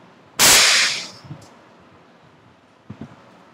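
A child fires a toy gun: one sharp, loud crack with a hissing tail. A couple of faint knocks and shuffles follow.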